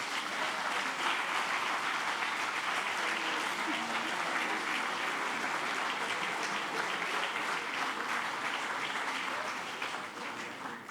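A conference audience applauding in a hall, dense continuous clapping at an even level for the whole stretch, tapering slightly at the end.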